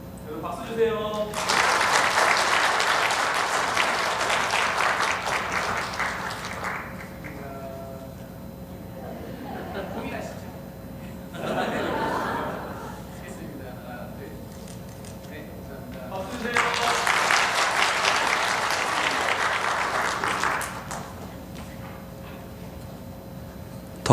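Church congregation at a Sunday service applauding families, two long bursts of steady clapping with a quieter stretch of murmuring and a short spoken voice between them.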